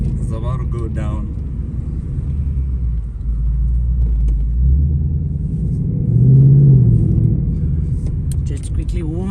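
A Ford Mustang GT 5.0 idles with a deep, loud rumble in Sandton, South Africa, then swells into a couple of throaty revs while warming its tyres, with voices talking over the engine.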